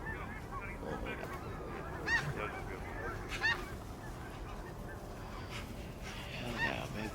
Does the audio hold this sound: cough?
no